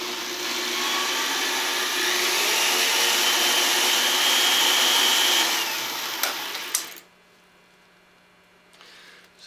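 Power case trimmer whirring as it cuts and deburrs 5.56/.223 brass, a loud steady motor whine with a scraping tone that stops abruptly, leaving faint hum and a brief clatter.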